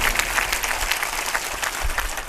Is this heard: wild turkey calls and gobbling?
no